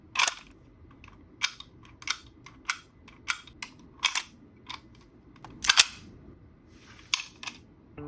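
Sharp mechanical clicks and clacks from a large, old vintage lock worked to mimic a big gun's bolt, about a dozen crisp, close snaps at irregular intervals over a quiet background.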